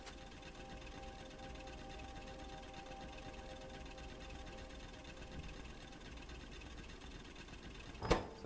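A burner mining drill runs in the Factorio video game, giving a steady, even mechanical chugging hum throughout, with a brief sharp click near the end.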